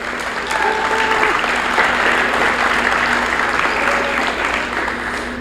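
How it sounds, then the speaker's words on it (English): A basketball championship crowd claps steadily in dense, sustained applause, loud and continuous throughout, with faint voices mixed in. "giving everyone involved a round of applause for that"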